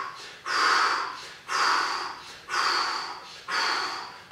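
Four forceful, sharp exhalations through the nose and mouth in a combat-sports breathing drill, evenly spaced about one second apart, close and loud with no talking.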